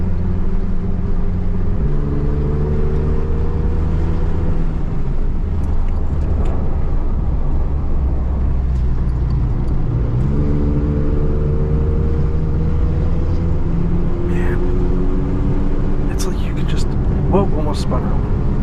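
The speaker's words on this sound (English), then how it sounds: "The downshifts on these are awesome." Porsche GT4 RS flat-six on a race track, heard from the cockpit, drones loudly and steadily, with several stepped downshifts where the revs drop and then climb again; a voice speaks briefly beneath the engine.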